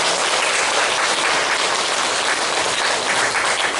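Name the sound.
church congregation applauding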